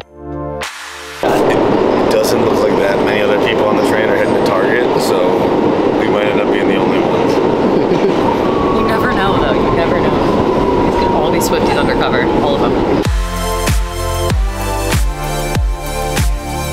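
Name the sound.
train riding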